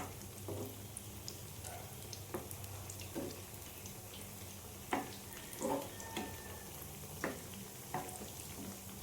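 Sweet potato cutlets fry on a low flame with a soft, steady sizzle, broken by several faint clicks and pops from the pan.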